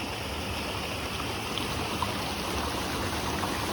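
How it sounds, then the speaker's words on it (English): A creek running high after a week or two of on-and-off rain, a steady, close, broadband rush of flowing water over rocks that stays even throughout with no voices. "It's been raining on and off for a week or 2, and the creek's back up"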